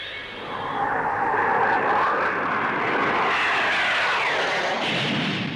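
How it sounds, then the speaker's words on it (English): A Blackburn NA-39 two-seat naval strike aircraft flies past at Farnborough in 1959, its engine a loud, broad continuous roar that swells and holds before shifting in pitch as it passes. "Blackburn aircraft's contribution in the transonic field is the NA-39, a 2-seater strike aircraft for the Navy"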